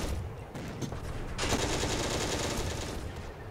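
Rapid bursts of tank machine-gun fire from a Panzer II in the Steel Fury tank game, dense rattling volleys blending into a sustained stretch of gunfire mid-clip with battle noise around it.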